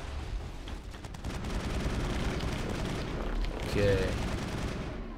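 Gunfire against hostiles in Mass Effect 1, with rapid shots rattling early, then a steadier roar of combat noise and a louder burst near the end, with a brief spoken word.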